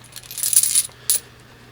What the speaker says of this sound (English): Oh, dropping coins.